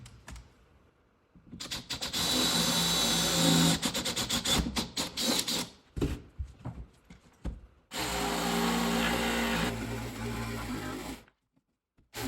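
A power tool cuts a rectangle out of a sheet for an Addams Family stage set platform, running in two long loud bursts with short stops and stutters between, close and without talk.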